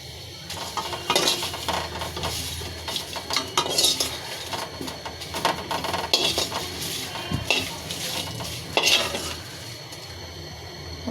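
Dried chillies, garlic and onion fry in a pot for a kalojira bharta, a steady sizzle broken by repeated metal spatula scrapes and clinks against the pot as the ingredients are stirred.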